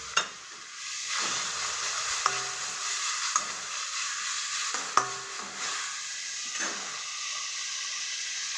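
Vegetables sautéing in a pan give a continuous hissing sizzle, broken by several sharp clicks and scrapes as a spatula stirs them at intervals; nearby and fairly loud, with no talking.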